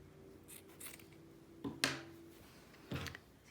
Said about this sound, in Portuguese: também vou cortar no meio.